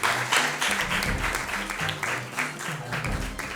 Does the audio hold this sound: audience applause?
yes